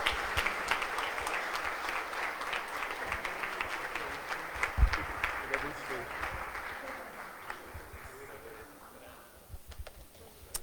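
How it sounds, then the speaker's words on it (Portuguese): A church congregation at a Sunday service claps vigorously and continuously, the applause gradually fading toward the end, with voices mixed in. "Aplauda o Senhor aí com toda a sua força."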